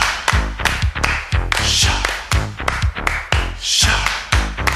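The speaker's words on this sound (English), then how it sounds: "Everybody clap your hands." Sharp hand claps hit on a steady beat in a house music track, loud and up front over thumping bass and synths, repeating evenly throughout.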